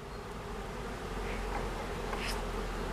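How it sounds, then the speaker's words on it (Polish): Honey bees buzz around the small entrances of their hive in a continuous close, dense hum, with a few individual bees passing nearer now and then. "No pięknie pszczoły chodzą, wylotki malutkie."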